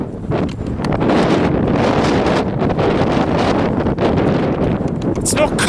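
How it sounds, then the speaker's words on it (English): Strong wind on an exposed hill walk up to a summit, roaring steadily and close into the microphone for the whole stretch, buffeting in gusts with no talk heard. "It's not cold, it's just windy."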